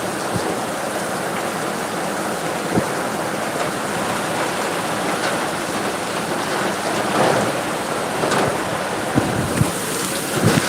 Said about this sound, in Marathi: पाऊस बघा तोपर्यंत